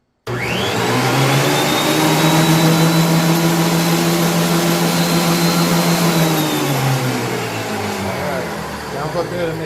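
An old, formerly rusted and non-working Ridgid benchtop planer is switched on and spins up with a rising whine. It then runs as a loud, steady motor roar with a high tonal hum, and it slows slightly near the end.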